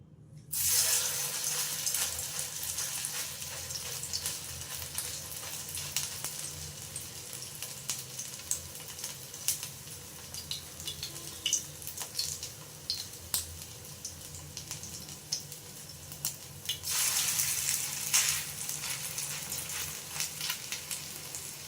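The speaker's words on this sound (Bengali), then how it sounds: "এই তেল গরম হয়ে গেছে দেখো এবার আমি একটা একটা করে দিয়ে আমি ভাজতে থাকবো" Sweet corn cutlets fry in hot oil with a steady, close, bright sizzle and crackle that runs throughout, swelling louder near the start and again toward the end, with no talking.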